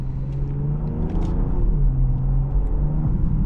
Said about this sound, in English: This is a high revving engine for sure.